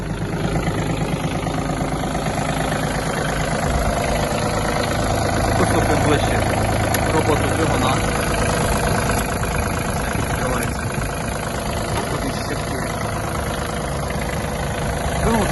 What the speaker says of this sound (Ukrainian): Вижимаємо. щеплення і заводимо. Заводиться кожний раз прекрасно.